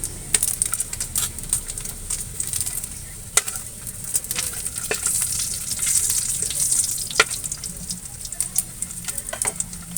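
Steady crackling sizzle of fish skin frying in hot oil, with sharp pops and spits scattered throughout, close and continuous.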